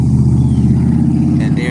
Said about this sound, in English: And there's that loud truck right there.